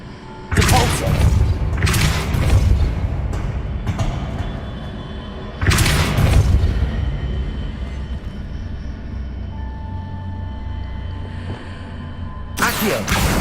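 Depulso, a force-pushing spell from the Hogwarts Legacy wizarding game, fired repeatedly as loud broadband blasts with heavy thuds and lingering rumble, about four casts spaced several seconds apart.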